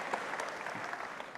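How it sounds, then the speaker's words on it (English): Applause from a stage-event audience, a dense steady clatter of clapping filling the whole moment at even loudness, with no voices rising above it. "Can we give a round of applause?"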